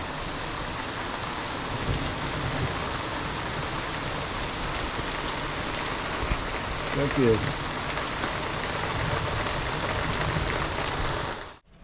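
Steady rain hisses down on surfaces without a break in the Alps, and a voice says a brief word partway through.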